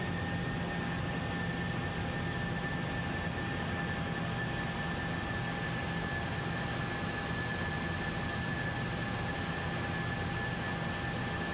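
Steady roar of a Hawker Hunter jet on a crosswind landing approach in Microsoft Flight Simulator, a broad continuous engine rumble with faint high whining tones, constant and unchanging throughout with no voices.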